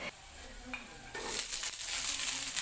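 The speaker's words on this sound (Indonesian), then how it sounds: "Lalu digosreng-gosreng sebentar." Garlic, chili and onion stir-fry in hot oil, giving a brisk crackling sizzle that swells halfway through, with scraping strokes of a spatula against the pan.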